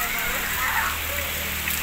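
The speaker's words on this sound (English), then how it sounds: "it's raining hard over here" Heavy rain falls steadily at a family resort with cottages and hotels, a dense broadband hiss of drops on surfaces that continues without break, with faint voices mixed into the wash.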